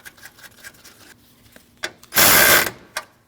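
A hand ratchet clicks in short bursts on a 10mm nut holding the AC line bracket of a 2014-2023 Jeep Cherokee, quiet metallic ticking broken by one loud, rough scraping rush near the end.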